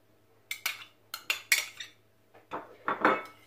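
A spoon clinks and scrapes against a pan while cooked fruit and kiwi are mixed together, in two bursts of close metallic knocks and scrapes with a brief pause between them.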